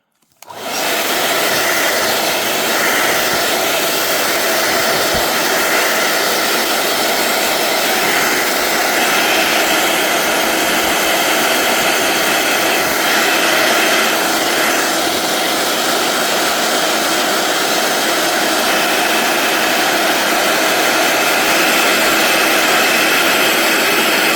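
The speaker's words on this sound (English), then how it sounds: "And then I will dry it a little bit with the hairdryer." A hair dryer blows loudly and steadily, switching on abruptly and holding a constant whooshing roar throughout.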